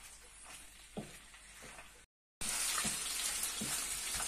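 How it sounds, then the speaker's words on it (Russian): Chicken breast frying in a pan, a steady broadband sizzle that runs continuously, briefly cuts out, then returns louder and denser, with a few soft clinks and bumps of utensils; no talking. "чем больше вы жарите грудь, тем она будет суше"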